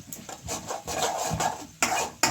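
Garlic being added and stirred in a cooking pan for Gujarati-style sev bhaji, with scraping, rasping stirs and occasional louder clatters against the pan, close and continuous with no voices.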